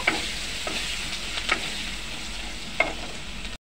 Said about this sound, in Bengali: তো এগুলোকে ভালো করে ভেজে নেব।